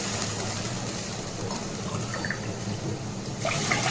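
Water pours steadily into a pan, a continuous splashing gush that grows a little louder toward the end, with no talking.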